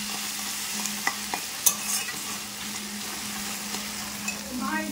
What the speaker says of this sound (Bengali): এই দেখ ম্যাগিটা এখানে সেদ্ধ করেছি না কড়াইতে, লেগে যাচ্ছে। তো এখানে এই যে ম্যাগি ফ্রাই হবে।